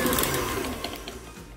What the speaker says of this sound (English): So now I'm going to mix this up for 2 solid minutes on high